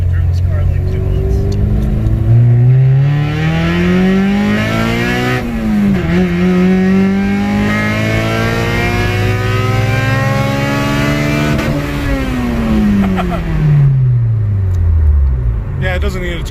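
Engine-swapped Honda S2000 accelerating hard through several gears, its loud, close engine note climbing in pitch, dropping at each shift and climbing again before easing off near the end, with a voice speaking over it.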